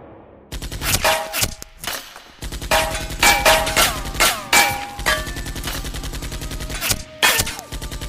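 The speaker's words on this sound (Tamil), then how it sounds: "ஆலியாவுக்கு பக்கத்திலேயே ஒரு புல்லட் போகுது." Sound-effect gunfire in an animated Tamil riddle story, with loud sharp shots in rapid bursts, metallic clangs and pinging ricochet tones over a dense, continuous action mix.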